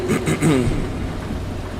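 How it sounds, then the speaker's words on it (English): Steady rain with a low thunder rumble in a realistic truck driving video game, a soft wash of noise under brief bursts of a voice. "Rain will not want to go away."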